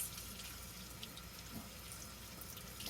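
Tap water runs steadily into a sink while freshly dyed fabric for fascinators is rinsed, a faint continuous hiss with small splashes and no talking.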